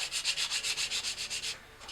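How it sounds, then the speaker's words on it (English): The bottom of an MDF replica gun piece gets a rough hand sanding in a workshop. About a dozen quick, rhythmic back-and-forth scratchy strokes sound up close and fairly soft, then stop with a brief quiet pause and one last stroke. "I'll go in and give the bottom a nice rough sanding"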